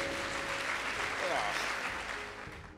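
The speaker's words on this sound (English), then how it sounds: "clap your hands for that boss" Church congregation clapping hands in a steady, dense wash of applause during a service, fairly loud and continuous, with a voice mixed in briefly.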